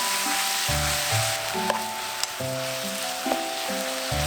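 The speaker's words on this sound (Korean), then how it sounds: "고기가 맛있게 볶아지고 있어요" Thin-sliced shabu-shabu beef stir-frying in a hot pan, giving a steady bright sizzle throughout, with soft scraping and stirring knocks from a utensil rising and falling beneath it.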